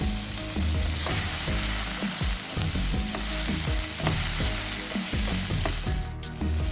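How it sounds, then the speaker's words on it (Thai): Celery and spring onion being stir-fried with pepper in a hot pan: a loud, steady sizzle broken by repeated scraping stirs of the spatula, with no voices. "แล้วก็ผัดต่อค่ะ ขึ้นช่ายกับต้นหอมนะคะ"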